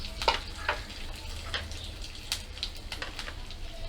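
Cumin seeds tempering in hot oil, a quiet crackling sizzle with sharp little pops scattered over a soft low hum, no speech.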